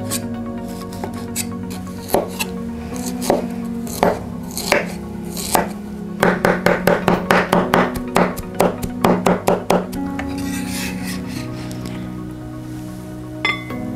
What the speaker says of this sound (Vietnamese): Đầu tiên khóm chúng ta xắt rồi băm nhuyễn ra.